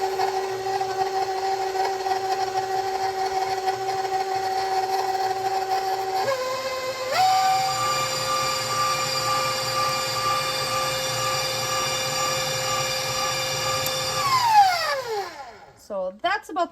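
Electric mixer beating molasses cookie batter with eggs, a steady whirring hum that shifts up in speed partway through, then winds down and stops near the end.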